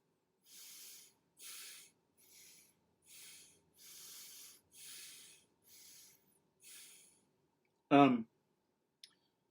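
Deep, breathy breaths are drawn in and pushed out through the mouth, about eight soft, even hissing pulses in a slow rhythm, close by, followed by a brief spoken sound.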